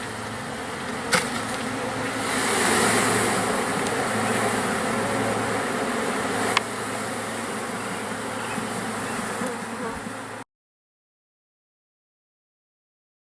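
Honey bees swarm and buzz loudly around a package being installed into a hive in bad weather, a dense continuous drone with a few brief knocks before it cuts to silence.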